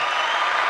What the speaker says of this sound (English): I got the same applause as you guys did